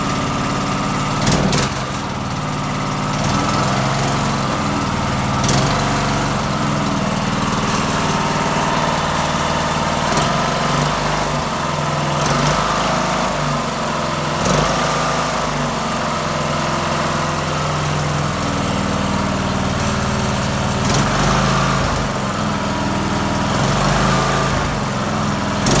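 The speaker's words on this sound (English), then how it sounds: "Let's start this thing up. See if I gotta push that gas down to start it. There we go. Let's see if it'll rev a little bit." Loud, steady engine roar from a homemade racing lawn mower as it starts and revs, with a rough idle rumble and periodic surges in pitch throughout, no talk over it.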